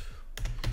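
Typing on a computer keyboard into an AI chatbot: a few quick, close key clicks in a very brief burst.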